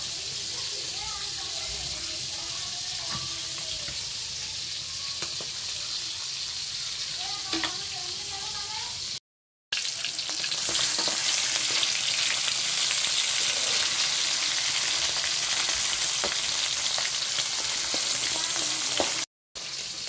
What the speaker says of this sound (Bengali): মাছ ভাজা শুরু করে দিলাম।